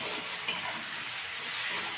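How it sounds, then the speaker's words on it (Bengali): Shredded cabbage and egg with turmeric and salt sautéing in a pan, giving a steady, even sizzle with one brief scrape near the start. "এই যে দিয়ে এবার এটাকে ভালো করে সুন্দর করে কষাবো।"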